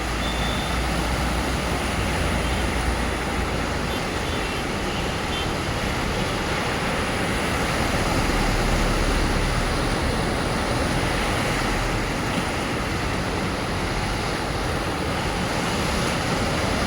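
Overflowing water from the Machhu canal in Morbi pours onto the road in a steady, dense rushing roar that stays close and unbroken throughout.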